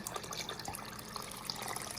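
About eight cups of water pour from a tap into a cooking pot over raw chicken, a steady, fairly faint splashing gush with no talking.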